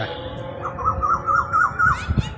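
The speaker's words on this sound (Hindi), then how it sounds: "कोयल महाराज आए हुए हैं और कोको कोको की आवाज़ बोल रहे हैं" An Asian koel calls on an evening in Patna City: a run of about six quick, rising warbled notes, fairly near and clear over a low hum of distant traffic.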